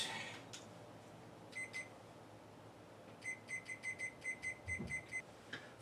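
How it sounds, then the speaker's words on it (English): A kitchen timer set for 40 minutes goes off with short bursts of high electronic beeps: a couple of double beeps, then a rapid run of about a dozen, fairly faint against a quiet kitchen. "Timer 40 minutes."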